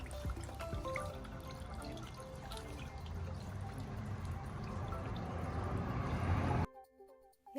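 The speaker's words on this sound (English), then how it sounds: "The second container, you need to fill that up with water." Water poured into a plastic container for an outdoor porch decoration, a continuous splashing trickle that runs steadily for several seconds and stops abruptly near the end.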